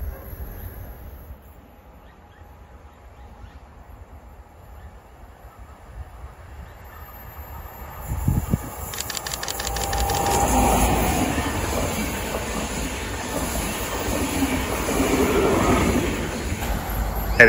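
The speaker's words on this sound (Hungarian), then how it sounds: "Távolban már hallom is a vonat zaját, mindjárt érkezik oda az ívbe" Metropolitan EuroCity passenger train approaching on a curve and passing, a low rumble building from far off into a loud, broad roar with a few rail clatters and squeals as it goes by.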